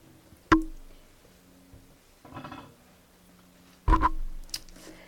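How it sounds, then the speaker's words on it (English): Pet rabbits eating and drinking nearby, heard as two sharp, loud clicks or knocks at the start and near the end. Between them comes a faint, brief rustling, set against a quiet room with no talking. "Apologies for the bunnies that they eat and drink and sleep, and so unfortunately that's what you can hear."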